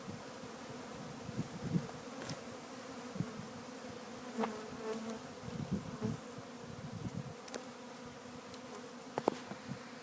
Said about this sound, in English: I'm going to go ahead and brush them in, install the inside cover and then the top cover.